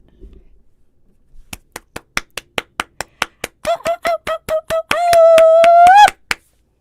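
A small group claps in a rhythmic pattern, sharp evenly spaced claps speeding into a run, while a voice sings a sustained tune over the later claps, ending with a final clap.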